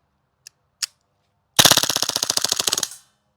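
A WE M712 Mauser airsoft pistol fires two single shots, then a rapid automatic burst of about fifteen sharp cracks that stops abruptly as the magazine runs empty and the slide locks back; loud and close, no talking.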